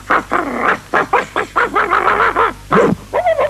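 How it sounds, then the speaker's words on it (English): Two grown dogs fight in a 1970s television broadcast, a rapid run of loud, close barks and snarls repeating in quick bursts over a few seconds. "Fancy 2 grown dogs fighting."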